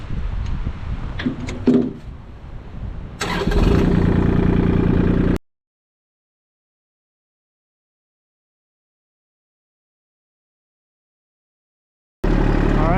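A loud Kubota L2501 tractor engine turns over and catches, running roughly before cutting off into silence, then rumbling again at the end.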